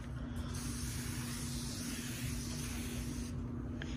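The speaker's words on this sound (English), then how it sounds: "Spray it on this side now." Sprayway window cleaner misted onto a sliding glass door, a steady soft hiss that runs for about four seconds at close range, quiet and alone with no talk.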